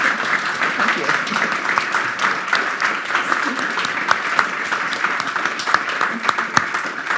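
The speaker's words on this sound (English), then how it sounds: "Big round of applause" Audience applause after a talk, a steady, sustained wash of many clapping hands with occasional sharper claps popping out, continuing evenly for several seconds.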